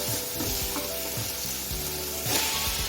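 Sautéing in a pan for fish biryani, just before tomatoes go in: a loud, close sizzle runs continuously with intermittent scraping stir strokes, and no one speaks.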